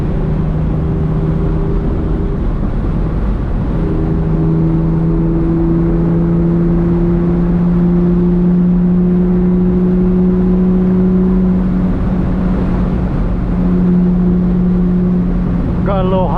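A BMW E46 with a 5-speed manual pulls along on a night drive, its engine a loud, steady droning hum with sustained tonal whine and faint rising pitch near the end, heard from inside the car.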